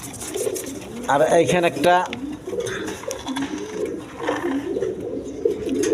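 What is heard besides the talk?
Rasgolla pigeons cooing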